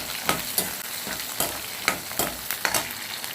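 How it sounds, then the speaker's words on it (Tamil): Grated carrot and shallots sautéing in an oiled pan for carrot chutney, a constant sizzle broken by sharp spatula scrapes and knocks at an uneven beat, close and clear, no speech. "போட்டு நல்லா வதக்கி விட்டுருங்க."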